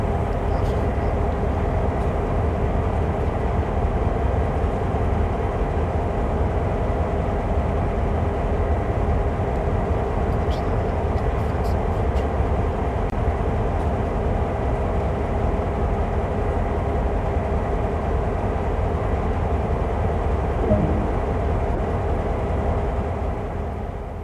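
Steady rumble of a train rolling along in the Train Sim World game, a continuous loud drone with mechanical hum that holds level for the whole stretch, fading slightly at the very end, with no voices.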